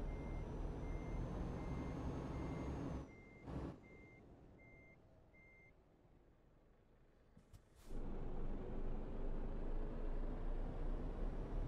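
A truck in the Euro Truck Simulator 2 driving game sounds a run of evenly spaced reversing beeps over a loud engine drone, which drops away midway and then returns at full strength.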